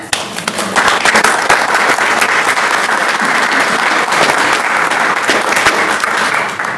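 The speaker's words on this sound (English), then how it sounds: "One more round of applause." Loud, dense applause fills the room at a school board of education meeting, a sustained wash of many hands clapping at once for several seconds without any voices over it.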